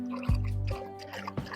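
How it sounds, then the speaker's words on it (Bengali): Indian pennywort (thankuni) leaves are washed in water in a home village kitchen: a brief pour and splash, then soft dripping and trickling, close and fairly quiet. "এখন আমি এই থানকুনি পাতাগুলো ধুয়ে নেব ভালো করে"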